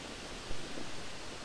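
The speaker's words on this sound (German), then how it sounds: "Kräftiger Wind. Das gibt ganz schöne Wellen." Strong wind and waves along the shore of Wangerooge island on a stormy day, heard as a steady, fairly faint broadband rush with a slight swell halfway through, no voices.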